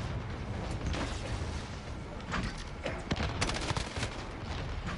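Gunfire in the Call of Duty Modern Warfare video game, dense bursts and sharp shots layered over constant loud explosive rumble and battle noise, with no clear pauses.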